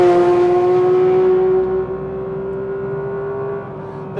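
A sustained high-revving Porsche 992.2 GT3 engine drone on a track holds a steady pitch, loud and close, dipping slightly partway through as it keeps pulling.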